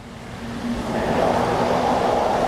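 A 1971 Corvette LT1 convertible's V8 rumbles as it pulls away on a drive, a low engine drone rising steadily in loudness over a couple of seconds with road and wind noise building around it.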